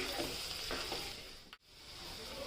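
Potatoes that were fried earlier are stirred into onions frying in a pan for a dahi aloo dish. A steady, moderate sizzle runs throughout, with a brief scrape and a short dip partway through.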